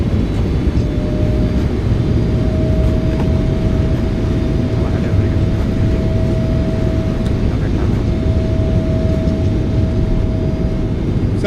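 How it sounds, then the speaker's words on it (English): A PMDG 777F's thrust reversers roar during the landing roll in MSFS2024, a loud, steady broadband rush with a faint whine, under spoken cockpit talk. "Nose down gently, reversers out into the wind,"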